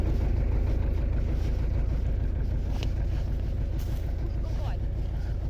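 An MTZ tractor pulls a heavy cultivator in a field: a steady, loud low engine drone with constant rumble and wind buffeting the microphone, running continuously throughout.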